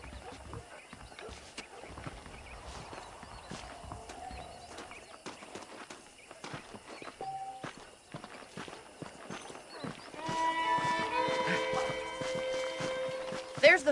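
Horse hooves clip-clop steadily on the ground in the video game Red Dead Redemption, close and moderate in level, with game music swelling near the end.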